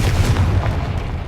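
A Confringo fire spell explodes in the game Hogwarts Legacy, a deep booming blast with rumbling low-end bursts that carry through the whole moment.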